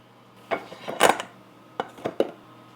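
A chocolate bundt cake is flipped out of its pan, giving a few clattering knocks and clanks of metal pan against a plate or counter, two clustered hits early then three sharper taps later, close and alone without talk.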